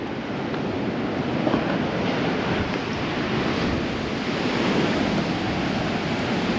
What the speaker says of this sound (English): Cool little beach down in here as well. Reef all through there.